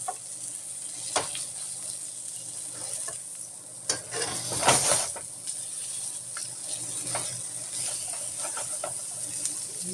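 Eggplant sizzles steadily in a pan during a breakfast of steak and eggs, with a constant close hiss broken by scattered clicks and stirring scrapes and one louder burst of crackle midway; no one speaks.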